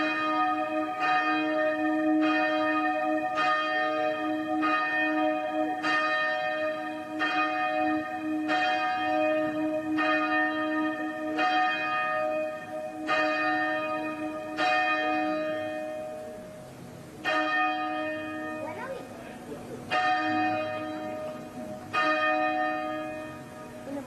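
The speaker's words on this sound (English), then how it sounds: "allow our listeners and our viewers to hear the bells being rung" Church bells rung in honour of Archbishop Desmond Tutu, a steady sequence of bright, ringing peals repeating at a regular pace, loud and close, with overlapping tones sustained throughout and no talking.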